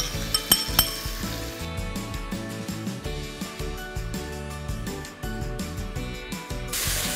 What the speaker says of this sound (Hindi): चिकन को आपने इतना फ्राई करना है कि इसका कलर ट्रांसलूसेंट हो जाए।